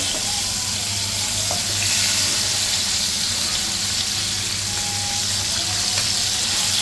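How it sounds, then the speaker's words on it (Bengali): Boal fish frying in hot oil gives a continuous loud sizzle with a steady low hum underneath and a few faint clinks, with no voices. "তো মাছগুলো প্রায় ভাজা হয়ে যাচ্ছে"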